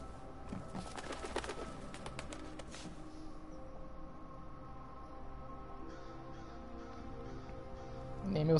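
Pigeons or doves coo softly and repeatedly in the Thief video game for PS4, a low steady cooing under a quiet ambient background.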